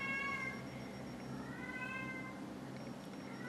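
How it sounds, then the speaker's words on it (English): A talkative house cat meows several times, a few drawn-out, wavering cries spaced across a few seconds, fairly faint over a quiet room hum. "I have a cat who likes to talk a lot."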